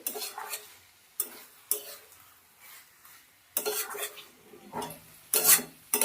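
Dried loitta fish cooked with winter vegetables is stirred in a pan, with several separate bursts of spatula scraping and faint sizzle between quiet gaps.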